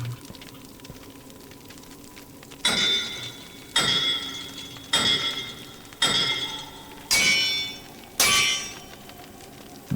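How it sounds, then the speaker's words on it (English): A hammer strikes metal in the video game Monomyth, six loud ringing clangs at roughly one-second intervals. Each hit leaves a bright metallic shimmer that decays before the next, and no one speaks. "It's making a different sounding clang."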